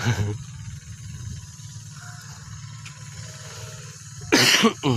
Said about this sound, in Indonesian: Lagi batuk saya